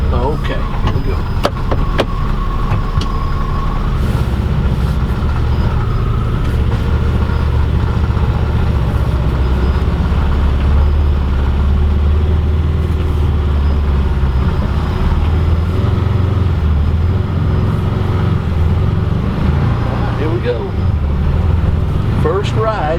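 A 2020 Can-Am Maverick Max Limited side-by-side with air conditioning drives along with a steady low engine drone and occasional knocks and rattles, and voices can be heard over it.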